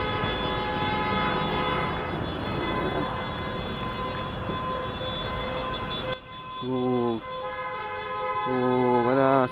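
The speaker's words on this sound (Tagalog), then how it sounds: "Ayan na, nagbusinahan na." Car horns blaring in bumper-to-bumper traffic, one long sustained honk over road rumble followed by several shorter stacked honks, near and loud, with people talking.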